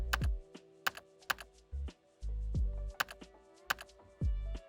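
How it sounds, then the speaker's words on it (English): Computer keyboard typed on up close, with a handful of sharp separate key clicks and a few heavier thuds in an irregular rhythm, as keys are pressed to quit the Vim editor. "all we have to do is type :Q to exit Vim"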